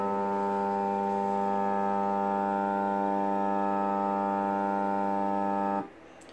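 A model elevator project runs up to its third-floor position, giving a steady, loud electrical motor hum with strong even tones that holds unchanged for about six seconds, then cuts off abruptly into near silence.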